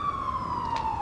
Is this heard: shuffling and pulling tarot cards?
no